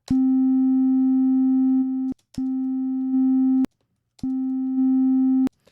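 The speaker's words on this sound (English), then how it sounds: "what we have is just a wave playing, a wave shape" A pure steady tone sounds three times, each lasting one to two seconds, separated by brief silent gaps.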